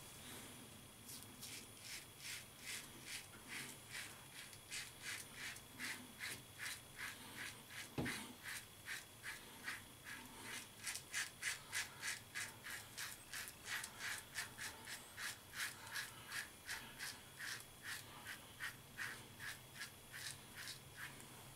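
Rapid, steady run of short scraping strokes from a Leaf Twig single edge razor shaving wet skin, close and fairly quiet, with one brief louder knock partway through and no talking.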